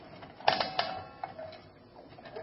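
Short metallic ratchet clicks from tightening the cable on a PYROCHEM kitchen fire suppression system during a reset, a few sharp close clicks in quick bursts followed by softer scattered ticks.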